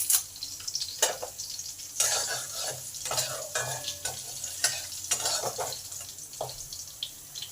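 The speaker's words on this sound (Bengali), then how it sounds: "চামচ কালো জিরে দিলাম, একটা শুকনো লঙ্কা আর একটা কাঁচা লঙ্কা ভেঙে দিলাম। এইগুলো একটু ভালো করে ভেজে নেব" Nigella seeds, a broken dried chilli, a green chilli and a bay leaf fry in hot oil. A constant close sizzle runs under repeated scraping strokes of a spoon against the pan.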